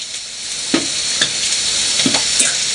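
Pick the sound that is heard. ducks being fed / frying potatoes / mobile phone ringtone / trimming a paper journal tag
frying potatoes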